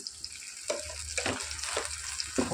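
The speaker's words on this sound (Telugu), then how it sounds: "ఇలా ఆనియన్స్ కలర్ చేంజ్ అయ్యే టైంలో ఇప్పుడు మనం ఇందులో కొద్దిగా అల్లం వెల్లుల్లి పేస్ట్ ఇంత వేసుకోవాలి." Ginger garlic paste fries with browning onions in a pan, making a soft continuous sizzle with repeated scraping stirs at an uneven rhythm, close by and fairly quiet.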